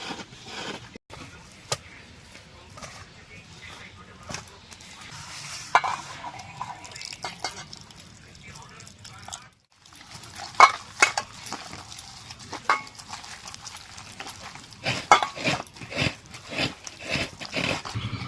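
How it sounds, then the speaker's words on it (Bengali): Palm fruit pulp being mixed by hand with water in a bowl, soft squelching and intermittent taps and clinks against the bowl, fairly quiet and close. "এবার তালগুলো এই বাটিতে নিয়ে একটু জল দিয়ে মেখে নেব।"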